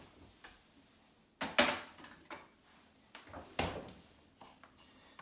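Quiet kitchen handling with two sharper knocks of a fridge door being shut while making sourdough, plus a few soft clicks and bumps.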